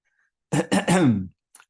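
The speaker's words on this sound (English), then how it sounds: "going to take a minute to clear my throat" A person clears their throat in a short series of harsh, rasping bursts, close and alone against silence.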